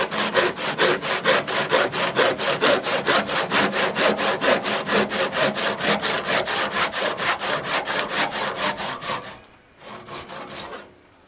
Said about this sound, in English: I'm going to quickly cut this glued end cap off and glue this one on instead